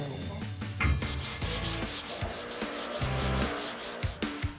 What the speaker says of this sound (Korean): 그냥 사포만 갖고 하는 게 아니고 기계가 있구나, 저것도.